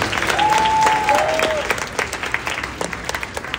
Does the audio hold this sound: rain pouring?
no